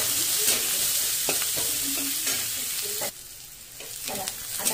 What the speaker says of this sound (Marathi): बघा तेलामध्ये मी लसूण टाकलंय ठीक आहे टाकते बघ कांदा